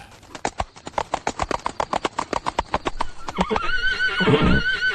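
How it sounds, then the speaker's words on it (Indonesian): In an audio drama scene, a horse's hooves clip-clop in a fast, steady rhythm, then the horse lets out a loud, shrill neigh at the end, close and clear. "Baginda Raja Purwandaru berkuda menuju hutan tempat persembunyian kelompok pemberontak Jatmiko dan kawan-kawannya."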